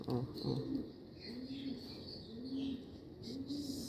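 Caged Jacobin pigeons coo in a low, repeated rhythm, each soft rolling call about a second apart, close by over a light background murmur.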